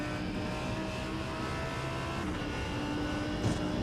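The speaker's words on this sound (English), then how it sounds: "In the car here with Dave Telford, see if we hear him clutching out or just letting up early." Onboard engine drone of a CORE GT Series race car at Sebring, a steady loud roar filling the cabin with only slight shifts in pitch as the driver works the gears or lifts off.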